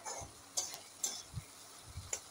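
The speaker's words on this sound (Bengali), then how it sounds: "নুন হলুদ দিয়ে আলুগুলি ভালো করে ভাজা করে নেব।" Potatoes seasoned with salt and turmeric fry quietly in a pan: a soft, steady sizzle with a few light clicks and scrapes of a stirring spoon scattered through it.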